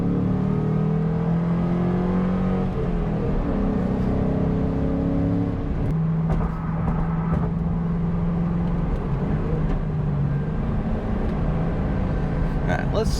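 A 2001 Bullitt Mustang pulling away and building speed on the road, its engine droning low and rising in pitch through the gears, steady and fairly loud from inside the car with a voice talking over it.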